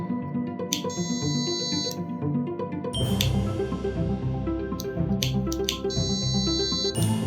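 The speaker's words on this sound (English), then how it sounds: "the buzzer is ringing once I light up the fire" A fire detector robot's buzzer sounds when a flame is lit near its sensor, set to medium sensitivity: steady high-pitched electronic beeping tones in repeated bursts, loud and close, over a dense, busy background.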